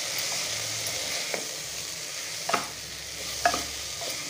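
Stirring methi corn pulao in a pan with ghee gives a soft steady sizzle, broken by a few sharp scraping knocks of the spoon against the pan at irregular moments. No one talks.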